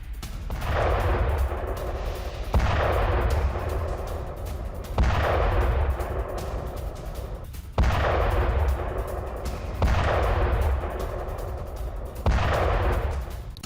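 Heavy booms from an Israeli bombardment of Hezbollah positions arrive roughly every two to three seconds, each a sharp blast that rumbles and fades before the next, six in a row.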